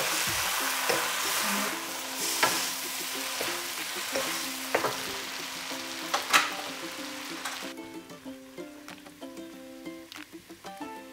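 Rice noodles stir-frying on a cooked egg in a hot pan for pad thai, a steady close sizzle with repeated scraping and clattering of the utensil against the pan throughout.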